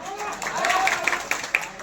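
An audience at a YouTube award event in Bhavnagar claps in scattered, uneven bursts, a few sharp hand claps standing out near the end, while a voice speaks over them.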